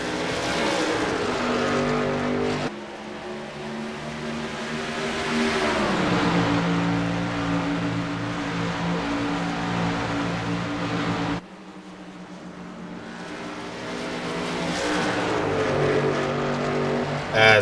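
Several race cars roaring around the track at Phoenix, engines rising and falling as they pass, with a sharp cut partway through before the loud, sustained racing noise resumes.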